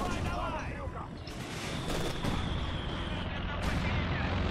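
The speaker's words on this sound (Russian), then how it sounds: "Сбрасывание осколочных бомб началось." Fragmentation bombs fall in a Company of Heroes 2 battle, a dense rumbling barrage of blasts and gunfire filling the whole stretch, loud and continuous with sharper bursts near the middle.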